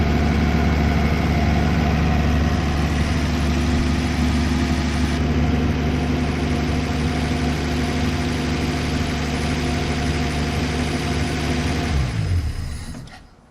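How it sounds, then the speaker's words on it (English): A 1964 Plymouth Belvedere engine idles with a steady, even rumble for several seconds, then abruptly cuts off and falls silent. "it is idling beautifully"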